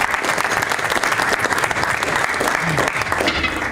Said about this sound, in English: I would like to give a big applause to our panelists